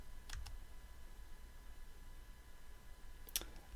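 A computer mouse clicking on a web page: a couple of quick faint clicks at the start and another crisp click near the end, over quiet room hiss.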